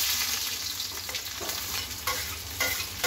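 Onions frying in hot oil in a kadai with cumin and garlic, a loud, dense sizzle with stirring scrapes and a few sharp knocks, close and unbroken.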